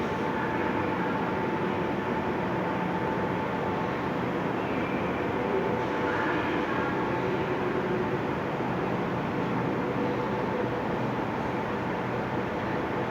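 An underground metro train on Istanbul's Beyoğlu–Karaköy line, the world's second-oldest metro, roars steadily in an enclosed space, a dense continuous rumble and rush of wheels that swells slightly as it approaches.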